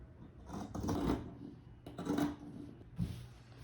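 Scissors cutting through the fabric of a pair of pants near an overlocked seam, two or three short crisp snips spaced about a second apart, close and fairly quiet with no talking.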